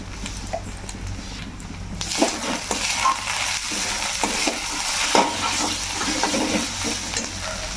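Chicken with cumin, coriander, turmeric and Kashmiri chili powder stirred and fried in a pan, a steady sizzle with scraping strokes of a spoon, close and continuous.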